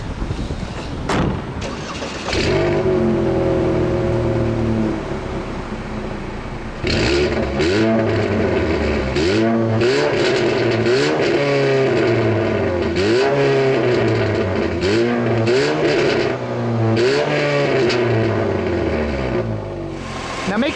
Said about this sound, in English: making all that noise under the hood is a rather surprising engine